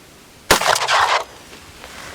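A single loud, sharp blast from a Remington Model 11-48 shotgun fitted with a poly choke set to full, firing shot 2, followed by a short rumbling decay and then quiet outdoor ambience.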